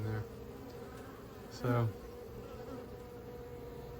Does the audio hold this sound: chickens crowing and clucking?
no